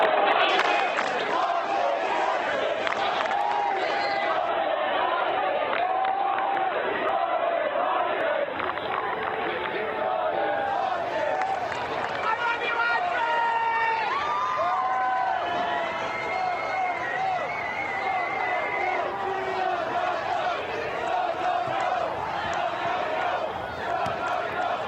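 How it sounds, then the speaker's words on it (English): A large crowd at the UConn basketball championship parade in Hartford roars and chants continuously, a dense outdoor wash of cheering voices with rhythmic shouted chants rising and falling over about twenty-five seconds. "the team taking in those cheers, the chants, UConn"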